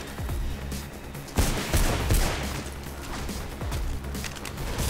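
Gunfire in the video game Mirror's Edge, a dense continuous barrage of shots with a heavier burst partway through, loud and sustained with mechanical clatter mixed in and no talk.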